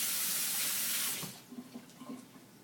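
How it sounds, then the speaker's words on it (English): Tap water runs steadily into a sink while a whisk is rinsed, a loud broadband gush for about a second before the flow cuts off, leaving faint clinks and drips. "You need to wash the whisk."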